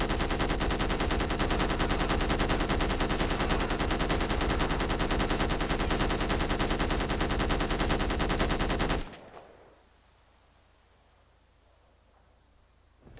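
Light machine gun fire in a GTA 5 zombie mod, one long, loud, unbroken stream of rapid shots lasting about nine seconds, then stopping abruptly into near silence.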